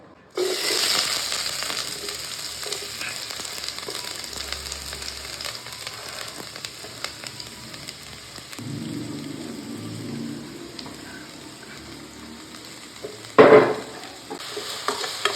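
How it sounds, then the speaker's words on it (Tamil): Shallots, curry leaves and green chillies sauté in hot oil with a steady close sizzle throughout, a brief stirring scrape midway and one sharp louder clatter near the end. "ஆயில் வந்து நல்லா காஞ்ச அப்புறம் சின்ன வெங்காயம் கருவேப்பிலை பச்சை மிளகாய் எல்லாத்தையும் சேர்த்து நம்ம வதக்க போகிறோம்"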